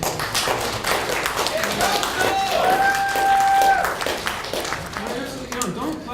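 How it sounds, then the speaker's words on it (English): Audience clapping at the close of a panel at the 2008 HOPE hacker conference, a dense steady patter of many hands filling the room, with a whistle cutting through and a voice starting to speak near the end. "Actually, you know, don't clap for us"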